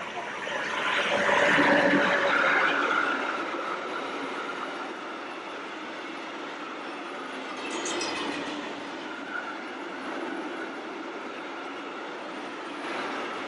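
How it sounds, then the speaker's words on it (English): A train pulls in on rails at a station in Germany, a steady broad rumble that swells early, then settles into a continuous rolling wash with faint wheel noise and a brief high squeal near the middle, heard alone without talk. "Here comes the train, just like my little train set."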